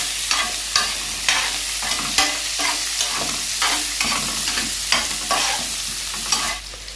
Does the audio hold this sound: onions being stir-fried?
yes